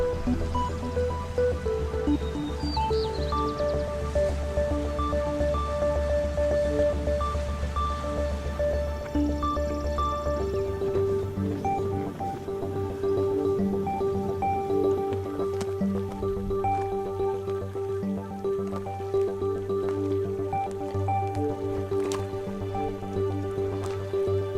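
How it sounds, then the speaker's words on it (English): Mud pots in a Yellowstone thermal basin seethe and bubble with steady wet plops and squishy gurgles, continuous and close, over a constant low rumble. "mix with what little water is there to form the seething and bubbling mud pots seen here"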